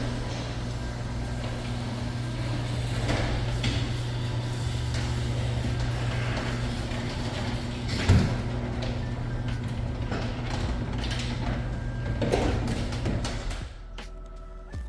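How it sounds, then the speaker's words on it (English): A large residential garage door in a new luxury home runs for most of its travel with a steady mechanical hum and faint creaks, ending in a soft stop and a quieter tail. "All right, garage door test."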